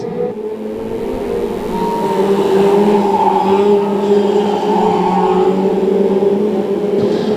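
Brisca F2 stock cars at the Cowdenbeath racewall battle for the lead down the home straight, a loud, sustained multi-engine roar that holds steady for several seconds with no talk.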